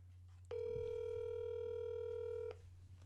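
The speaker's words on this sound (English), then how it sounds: "I think it would sound better on speaker." Phone call placed on speakerphone during a podcast: a steady ringback tone sounds alone for about two seconds over a low electrical hum, then cuts off.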